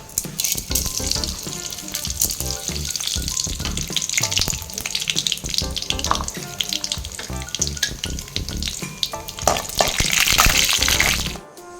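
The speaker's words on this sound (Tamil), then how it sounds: "பாப்பா கடுகு பொரிஞ்சிச்சு" Mustard seeds crackle and pop in hot oil in a home kitchen pan, a dense run of sharp sizzling bursts and spits that builds louder toward the end, with no talking.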